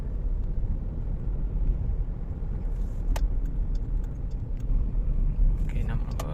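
Jeep Grand Cherokee with a Pentastar engine and a misfire, cruising on a main highway, a steady low road and engine rumble from inside the cabin with someone speaking over it.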